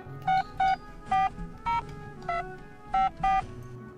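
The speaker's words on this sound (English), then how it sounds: "Hey, Tiberius, can I use your phone?" A telephone is dialed as seven crisp keypad tones beep in an irregular sequence, each short and distinct, over a quiet room with faint background hum.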